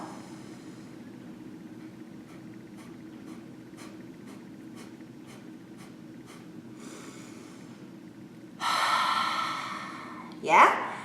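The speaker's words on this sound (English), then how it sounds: "the cycle is big inhale, 10 quick exhales, big receiving inhale" Rapid, forceful nasal exhales from a yoga breathing exercise pulse in a steady train of about ten short puffs, followed by a long, loud inhale and a sharp final breath, close to the microphone over a constant low hum.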